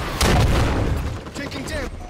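Grenade explosions in Halo 5 big team battle, a heavy boom with rumbling low-end debris followed by further blasts and gunfire, loud and near, with game voice callouts over the top.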